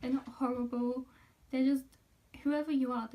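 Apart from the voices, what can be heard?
No distinct noise like a dog, phone or traffic.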